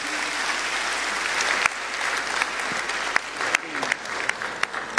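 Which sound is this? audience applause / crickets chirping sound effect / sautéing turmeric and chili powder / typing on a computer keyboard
audience applause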